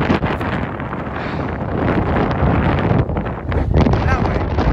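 Strong wind gusting to around 60 mph roars and buffets the microphone in a steady, heavy rush with surging gusts throughout.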